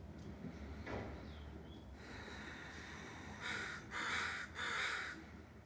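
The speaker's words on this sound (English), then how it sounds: "Let's listen to the crows. What are they saying?" Crows caw outdoors: softer rustling and a distant call come first, then three loud, harsh caws in quick succession near the end, each a short burst spaced about half a second apart.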